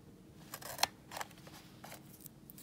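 A label printer's cutter snaps once, a sharp close click among soft, faint handling rustles in a quiet room.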